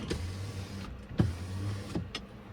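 Power rear window on a 2025 Ford F-150 Platinum pickup, its electric motor giving short whirring runs, one after another with brief pauses between, close and clear in a quiet cabin.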